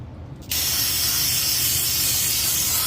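Parts cleaner sprayed from an aerosol can during a water pump job on a 1989 Dodge D100, a loud, steady close hiss that bursts on sharply after a brief pause and runs on without a break.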